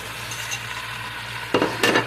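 Chuck steaks sear in a hot pan with a steady, bright sizzle throughout, close by, followed near the end by two sharp scraping clanks of a utensil against the pan.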